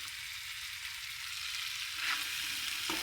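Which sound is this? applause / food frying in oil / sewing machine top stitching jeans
food frying in oil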